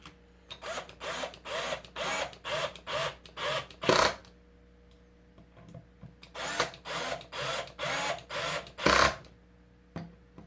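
Power drill set to low torque driving screws into a guitar body during a Stratocaster build, short repeated whirring bursts in two runs of roughly eight pulses, each run ending in a longer, heavier burst, close and loud.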